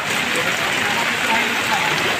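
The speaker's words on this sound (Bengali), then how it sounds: "2-3 দিন ধরে বৃষ্টি পড়তেছে, আপনারা জানেন।" Steady rain pours through a flooded city ward in Bangladesh, making a dense, even hiss with no breaks across the whole stretch.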